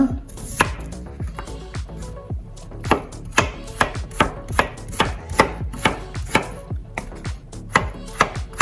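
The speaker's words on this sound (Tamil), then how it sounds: "ராசவள்ளி கிழங்க வந்து சின்ன சின்னதாக வெட்டி எடுப்போமா" Purple yam is chopped into small pieces with a knife on a board, giving sharp, close, evenly paced thuds that repeat steadily throughout.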